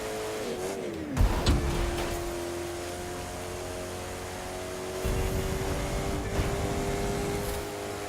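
A hypercar in the racing game The Crew 2 roars along at over 400 km/h, its steady high engine drone dipping through a quick pitch shift early on, then holding a loud, sustained whine to the end.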